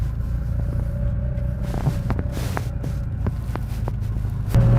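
A 1989 Porsche 930 Turbo idles with a steady low rumble and throb, then pulls away as the engine note rises briefly near the end, heard alone without talk.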